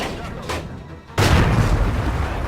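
A tank cannon round fires in World of Tanks, a sudden loud blast that breaks in after a quieter stretch and leaves a dense, rumbling wash ringing on to the end.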